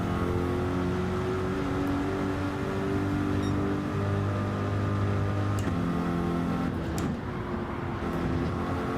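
A race car on the Nordschleife in Gran Turismo 7 with its tyres sliding. A loud, continuous engine drone holds steady the whole time, with a rough scrubbing layer and a brief shift near the end.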